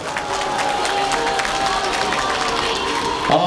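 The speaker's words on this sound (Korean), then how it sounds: "힘찬 박수 부탁드리겠습니다" A crowd applauds steadily at an outdoor political rally in Daegu, a dense wash of clapping that carries on without pause throughout.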